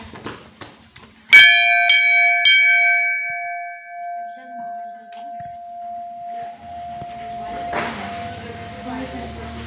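A temple bell at a Shiva temple during Diwali worship rings with one loud, sharp strike that leaves a long ringing tone, followed by softer clangs and background noise, with talk nearby.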